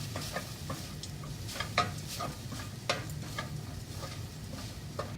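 Grated coconut roasting in a pan for a banana stem and green gram thoran, stirred with a utensil that scrapes and clicks now and then over a soft, steady sizzle, close and fairly quiet.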